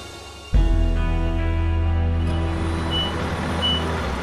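A linen company's semi-trailer truck backs up with its reversing alarm beeping steadily, the tones sitting over a loud, close diesel engine rumble that starts abruptly and holds throughout.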